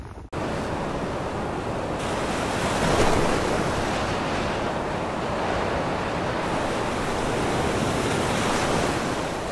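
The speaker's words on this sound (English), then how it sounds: "Really windy, and it's probably going to be really hard to hear me," Strong coastal wind roars into the microphone beside crashing ocean surf on a Pebble Beach area shoreline, a dense, loud, continuous rush with slight surges and no speech.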